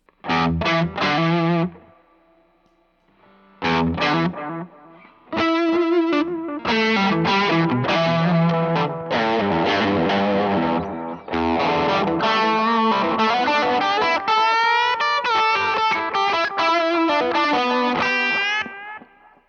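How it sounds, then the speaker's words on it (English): Loud distorted electric guitar solo through a Keeley Caverns delay and reverb pedal, trailing delay echoes, fast melodic runs after a short pause near the start. "It's a delay and reverb pedal."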